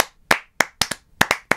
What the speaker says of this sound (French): Moi je dis Alex, on applaudit.